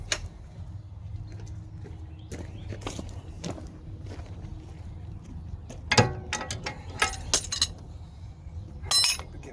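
Metal hand tools such as sockets and a screwdriver being set down and put away in a garage during a transmission job, scattered clinks and clanks with some footsteps and shuffling, close by and irregular.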